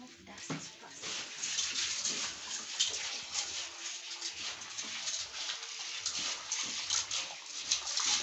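Hands being washed under running water in a village outdoor kitchen, a steady close splashing and trickling that continues with small sloshes throughout.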